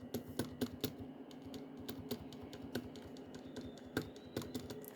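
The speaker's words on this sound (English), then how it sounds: "But yeah, the spacebar kind of thocks." Keys clack on a modded Langtu membrane keyboard in quick, irregular bursts of close, crisp taps, with deeper thocky spacebar hits scattered among them, all quiet and with no talk.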